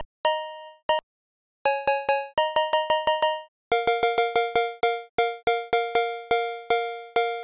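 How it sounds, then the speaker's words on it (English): A bright synthetic cowbell, a phonk-style cowbell built from scratch on a synthesizer, clanks in quick, uneven rhythmic patterns, each hit short and metallic, playing alone with brief pauses between phrases. "shape this up to get it to sound a bit more like a cowbell"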